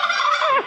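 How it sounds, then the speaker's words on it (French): A turkey lets out a single close, loud gobble that lasts under a second, with a bubbling, warbling tone that drops at the end. "Dindon."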